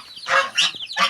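Domestic geese honk in quick succession at close range, three loud nasal calls within about a second, with nothing else underneath.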